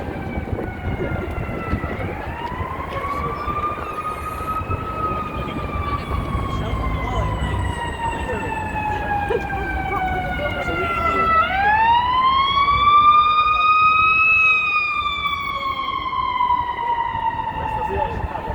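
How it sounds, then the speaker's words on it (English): Emergency vehicle sirens wail continuously, the pitch sweeping up and down and growing louder midway, over steady traffic and road rumble with some voices underneath. "you hear emergency vehicles responding to a call"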